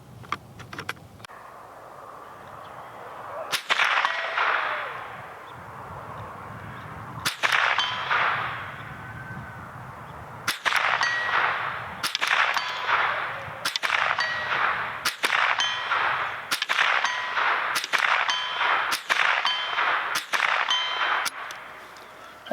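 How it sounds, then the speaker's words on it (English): A rifle fires ten rounds of CCI Mini-Mag ammunition at a 50-foot target, with loud sharp cracks, each ringing on with a metallic clang. The first shots are widely spaced and the later ones come in a quicker, steady series. "that was 10 rounds of CCI mini mag"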